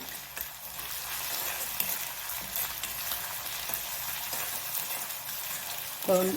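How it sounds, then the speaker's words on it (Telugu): Ginger garlic paste frying with onions in a pan, a continuous close sizzle with faint scraping and stirring, ending in a brief louder clatter. "ఇప్పుడు అల్లం వెల్లుల్లి పేస్ట్ వేసుకుంటున్నాను, 1 స్పూన్. దీన్ని కూడా బాగా వేయించుకుందాము."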